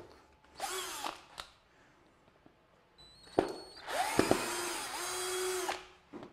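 Power drill backing a screw out of the base of a bonsai tray holding an Acer kaede, two short whirring runs and then a longer sustained whine, close and loud with no talk.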